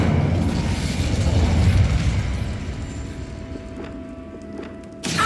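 A loud, sustained fiery roar from the Incendio fire spell in Hogwarts Legacy, rumbling for several seconds before dying away, followed by a sharp burst at the end.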